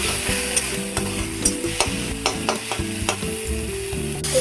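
Vegetables sizzle steadily in a hot pan with garlic, while a spatula stirs them in repeated scraping strokes that knock against the pan at close range.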